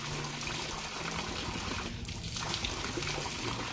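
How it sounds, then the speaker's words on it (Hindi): Water falls and trickles at Mahavinayak Temple in Chandikhol, a steady close splashing and dribbling that runs unbroken, with a brief dip in the middle and no talk. "देखिपे केते सुंदर भाव पानी पड़ी"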